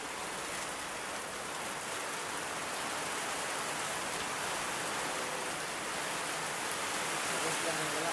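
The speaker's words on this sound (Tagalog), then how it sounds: "Kahit malakas ang ulan, no? Lakas ang idol ulan, no?" Heavy rain pours steadily throughout, a dense constant hiss with no pauses, loud and close.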